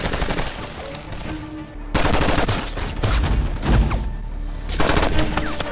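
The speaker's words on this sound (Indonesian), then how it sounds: "Seseorang menembaki mereka." Dense, rapid gunfire crackles in bursts throughout, loud and close, with heavy low rumble and chaotic overlapping shots.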